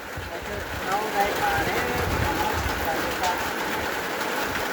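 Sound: rain falling

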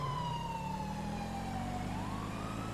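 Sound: police siren in video game GTA 5

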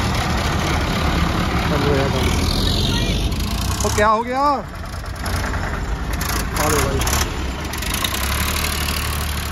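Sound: HMT 4022 tractor engine idling

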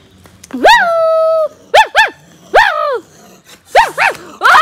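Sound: angry bulldog barking

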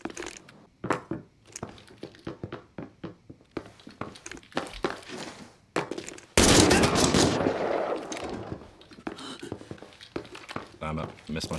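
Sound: gunshots in the video game Arena Breakout: Infinite

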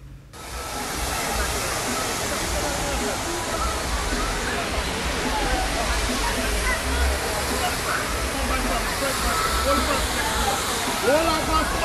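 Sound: Dunn's River Falls waterfall, Ocho Rios, Jamaica

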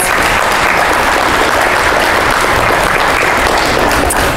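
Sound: audience applauding

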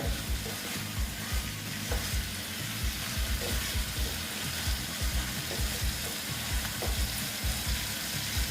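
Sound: snake gourd being stir-fried in a pan

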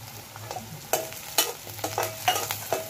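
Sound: onions and dried chillies frying in a pan

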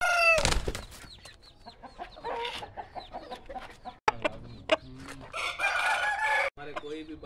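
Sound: Aseel roosters crowing and clucking

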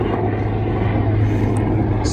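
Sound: helicopters flying over the Hollywood hills

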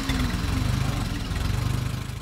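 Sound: model 450 tractor engine idling

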